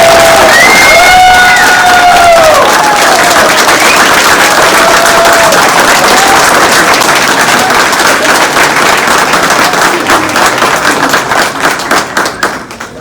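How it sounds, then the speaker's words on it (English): Audience at a Universal Technical Institute automotive and diesel technician graduation ceremony claps and cheers loudly, with whoops and shouts rising over sustained applause that tapers toward the end. "please join me in a big round of applause"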